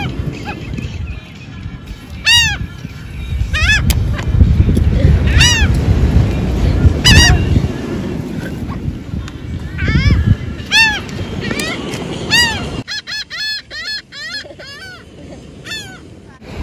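Birds gather around a dropped chip at a beach near surf, honking and squawking in repeated sharp calls against loud wave and wind noise, with people's voices in the background.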